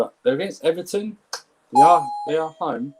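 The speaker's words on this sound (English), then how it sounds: "That's my doorbell." A home doorbell gives a short ringing chime that sits under a man's continuous, close speech.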